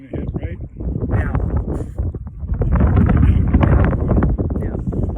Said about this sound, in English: There's a gust of wind there.